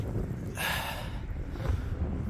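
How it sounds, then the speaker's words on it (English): Cold, biting wind on an open beach at Runswick Bay near Whitby, buffeting the microphone as a steady low rumble, with a brief hissing gust swelling up in the middle. "Definitely a cold, bitey wind."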